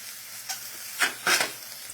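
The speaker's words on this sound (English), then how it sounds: "take the chicken and put it here in the skillet" Chicken pieces hiss and sizzle as they hit a 450-degree Saladmaster skillet, with short bursts of crackling spitting up over a quiet background.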